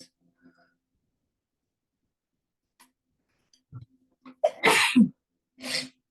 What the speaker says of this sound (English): And it wants to sneeze.